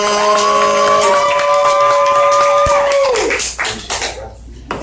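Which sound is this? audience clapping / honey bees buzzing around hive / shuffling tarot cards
audience clapping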